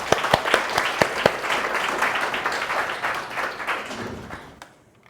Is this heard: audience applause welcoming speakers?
yes